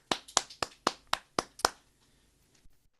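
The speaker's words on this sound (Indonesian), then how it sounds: "Kita beri tepuk tangan meriah saudara." About seven sharp, evenly spaced claps ring out close and clear in a church service, then stop abruptly, leaving faint room noise.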